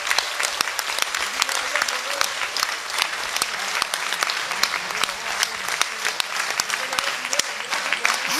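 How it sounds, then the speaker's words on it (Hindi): A large crowd at a religious gathering claps with raised hands in support, a loud, sustained, rhythmic wash of applause that keeps going throughout, with some voices mixed in underneath. "प्रत्येक व्यक्ति ऊपर हाथ उठाकर तालियां बजा करके इसका समर्थन करें।"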